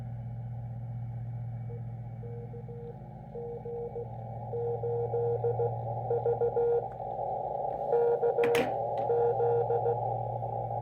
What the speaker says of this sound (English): Okay, so we've got some CW going on there.